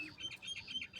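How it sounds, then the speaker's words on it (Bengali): Common myna calls from a wire in a village while a flock of pigeons lifts off a rooftop: repeated bright chirps close by, with faint soft flutter underneath. "ওই যে শালিক পাখি, ওই যে তারের উপরে বসা দেখছি"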